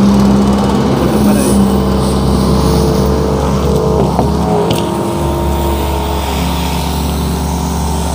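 The motor of a battery-powered crop sprayer runs close by with a loud, steady hum that holds at an even pitch throughout, with no voices over it.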